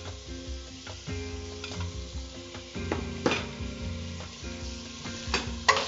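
Cooked, drained horse gram sizzles as it is sautéed in a pan. Steady frying crackle runs under repeated stirring scrapes, with a few louder spatula knocks near the end and no talk.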